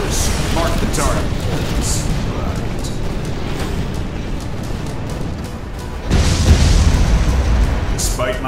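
Cruise missile explosions in C&C Generals Zero Hour, a series of deep booms and bursts rumbling under game voice lines, with a heavier, louder blast hitting near the end.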